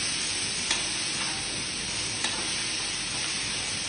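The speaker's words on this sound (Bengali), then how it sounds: "পেঁয়াজ বাটা ছেড়ে দিচ্ছি" Onion paste with garlic and ginger sizzles in hot oil as it fries, with steady crackling throughout and a few sharper scrapes of a spoon stirring the pan, close and fairly loud with no talking.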